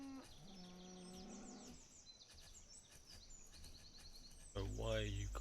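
Beef cows lowing in the village-building game Banished, a drawn-out moo at the start and a louder one near the end, with thin bird calls in the background.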